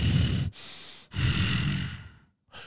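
A voice imitates heavy breathing, making three loud, close, effortful breaths in quick succession. The third breath is cut short.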